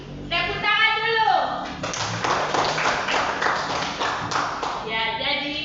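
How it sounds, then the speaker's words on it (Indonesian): Students in a classroom clap together in a short burst of applause, with a teacher's voice and children's chatter mixed in around the claps. "Tepuk tangan dulu."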